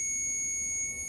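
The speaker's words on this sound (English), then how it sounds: "we've got the circuit beeper going" A continuity tester's circuit beeper gives one steady, high electronic tone, clear and unbroken, while connected to a DIN plug on an ITTP test setup.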